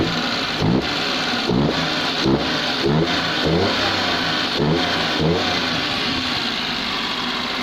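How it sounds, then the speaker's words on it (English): Perodua Nippa car engine with an inlet leak, revving in repeated short blips over a rough, raspy idle, close and loud, with no voices. "It sounds a bit farty. It sounds like there's a leak on the inlet somewhere."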